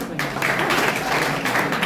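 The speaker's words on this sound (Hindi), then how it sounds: "एक बार जोरदार ताली बजाओ" An audience at a Brahma Kumaris motivational talk in India claps loudly on request, a steady burst of many hands lasting under two seconds.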